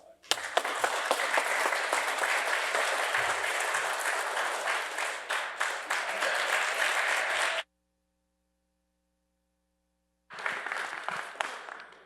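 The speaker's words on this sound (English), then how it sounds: "Give him a round of applause." Sustained audience applause at a Marine Corps logistics keynote event, loud and dense for about seven seconds, then a pause of silence before a second, shorter burst of clapping.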